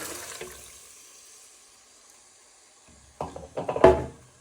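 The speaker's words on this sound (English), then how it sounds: "Now you want to pour in all your stock." Chicken stock poured into a hot pan for a Greek chicken dish, a short watery splash and gurgle that rises near the end after a mostly quiet stretch.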